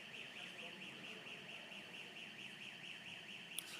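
A fire alarm sounds in a conference hall as an electronic siren, faint and distant, sweeping up and down in a steady repeating wail, with a brief click near the end.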